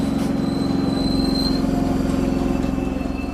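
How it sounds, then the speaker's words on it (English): A low, rhythmic rumble with steady thumping pulses as the Delhi Express train starts to roll, with a faint high whine above. "Oh no, the train is moving!"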